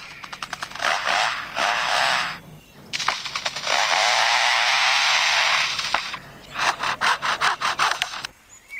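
A lyrebird imitates chainsaws: rough buzzing rasps in long bursts with stuttering pulses between them, loud and close, no talking.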